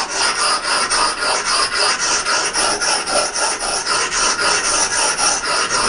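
An axe edge is sharpened by hand, with quick rhythmic rasping strokes of a file or stone, loud and close, repeating about three times a second with no pauses.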